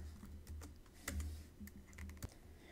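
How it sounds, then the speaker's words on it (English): Someone types custom text on a computer keyboard, a quiet, irregular patter of light key clicks heard up close with no one speaking. "we want to do custom text, and we want to type"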